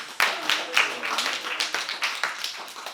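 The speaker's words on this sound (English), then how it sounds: "Give yourself a round of applause, please." Applause from a small audience at a spoken-word poetry night, with scattered claps starting sharply and continuing unevenly over three seconds at moderate loudness, some voices mixed in.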